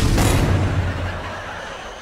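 A sonic pulse power blast striking a machine in a sitcom scene: a single loud, sharp boom at the start that decays into a fading rumbling wash over two seconds.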